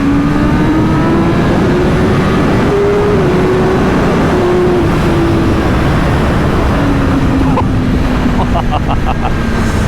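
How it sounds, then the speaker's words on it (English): A 2024 BMW M1000RR motorcycle engine accelerating on the road, a loud sustained drone with a slowly shifting pitch, heavily mixed with roaring wind noise throughout. "Let's give it a little bit of gas here"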